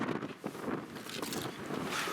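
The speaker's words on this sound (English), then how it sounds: "it's really windy" Gusty wind buffets the microphone outdoors, a rough, uneven roar that swells and dips over a couple of seconds with no speech.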